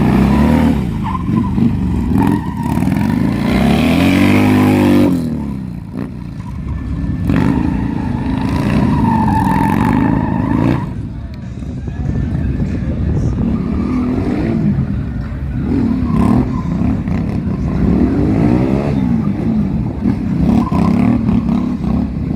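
Loud, stock Harley motorcycle engine with no muffler, revving hard at a drag race: a sustained roaring burst that cuts off, then repeated throaty revs rising and falling, loud and close.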